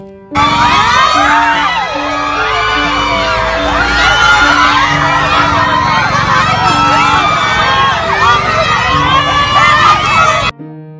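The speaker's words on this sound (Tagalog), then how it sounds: "Grabe ang hiyawan ng mga fans at supporters ni Kim Chu." Fans and supporters of Kim Chiu scream and cheer at the Pasayahan Festival in Lucena, Quezon: a loud, continuous wall of high-pitched shrieks, whoops and yells from a dense crowd, cutting off abruptly near the end.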